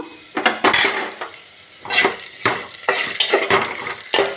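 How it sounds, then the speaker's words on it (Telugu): Green chilies, ginger, peppercorns, cashews and cumin tossed into hot oil, with a spoon clinking and scraping against the pan in repeated bursts over a steady low frying hiss, close and fairly loud. "ఆయిల్ వేడయ్యాక అందులో పచ్చిమిర్చి ముక్కలు అల్లం ముక్కలు మిరియాలు జీడిపప్పు జీలకర్ర వేస్తున్నా"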